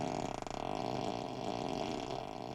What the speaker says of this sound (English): when someone sits on it, as you can hear, it makes a farting sound